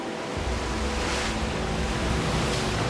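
Ocean waves surge and wash chunks of ice up onto a beach, a steady broadband roar of surf with wind noise, continuous and fairly loud throughout.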